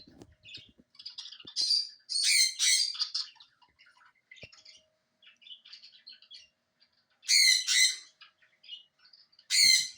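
A pet parrot gives loud, harsh screams and squawks in bursts, calling back to a recording of bird sounds played for parrots, with quieter chirps and tweets between the louder outbursts.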